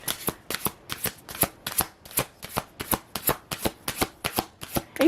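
Oracle cards being shuffled by hand in a riffle-like rhythm, about a dozen crisp bursts of card flutter in steady succession, close and fairly loud with no talking.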